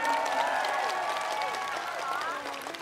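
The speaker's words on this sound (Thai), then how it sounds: "ปรบมือให้ท่านหน่อย" An audience at a Thai event applauds, a brief wash of clapping with some crowd murmur and faint voices mixed in, fading slightly toward the end.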